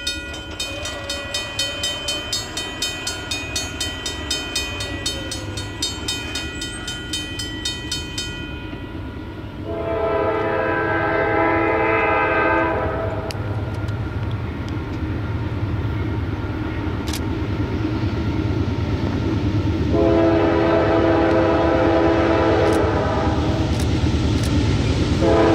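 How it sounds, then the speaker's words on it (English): A loaded coal train passes through White Post, Virginia, with a steady rolling rumble throughout and two long, loud horn blasts, one midway and another near the end. "where I caught our third loaded coal train of the day"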